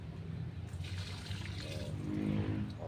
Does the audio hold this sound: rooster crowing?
no